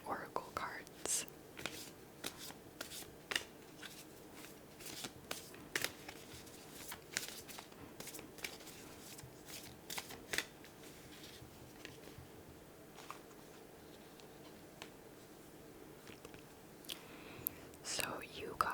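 Green Witch Oracle cards are shuffled in soft, close, quiet bursts of papery flicks and riffles, with gentle whispering throughout.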